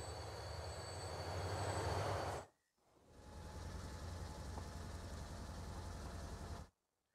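Freight train rolling along in the Transport Fever 2 simulation, a steady loud rumble of wheels and cars that cuts out briefly to silence midway, then resumes and stops abruptly near the end.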